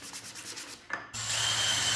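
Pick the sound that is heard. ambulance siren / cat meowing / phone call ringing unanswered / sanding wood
sanding wood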